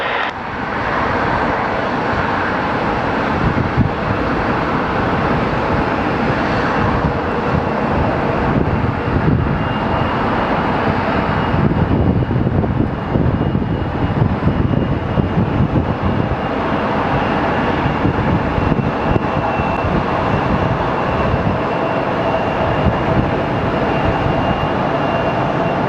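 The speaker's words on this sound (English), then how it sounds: "It's got to be the most interesting approach by the British Airways flight" A British Airways jet on approach to Phoenix Sky Harbor Airport roars loudly and continuously, a broad engine rumble with wind noise filling the whole stretch.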